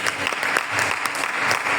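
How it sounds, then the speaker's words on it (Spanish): A church congregation breaks into loud, sustained applause, a dense wash of clapping filling the whole stretch without pause. "entonces un fuerte aplauso al Señor"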